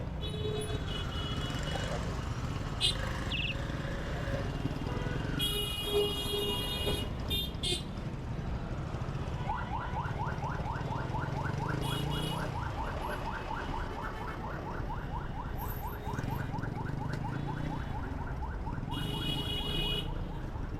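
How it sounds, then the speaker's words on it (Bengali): Vehicle horns sound in a packed traffic jam near Mohakhali Bus Terminal. Loud bursts of honking blare over a steady rumble of engines, with a long pulsing alarm-like horn in the middle and a few distant voices. "তো হর্ন বাজিতেই আছে।"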